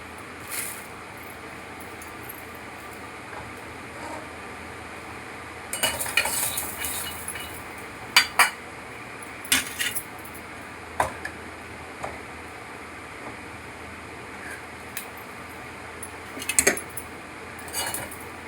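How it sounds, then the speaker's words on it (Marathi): Peanuts are dry-roasted in a pan without oil for poha, with a soft steady background and intermittent clattering, scraping bursts as a utensil stirs them against the metal. "हे मी शेंगदाणे घेतले आहेत पोहे टाकायला. ते मी इथे जरा छान असे खरपूस भाजून घेते."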